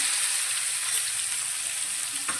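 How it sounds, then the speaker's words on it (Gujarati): Green masala paste with raw garlic sautés in hot oil, producing a dense, even hiss and sizzle up close for a couple of seconds, with a faint stir near the end and no speech. "અને તેને પણ તેલમાં સારી રીતે સાંતળી લઈશું"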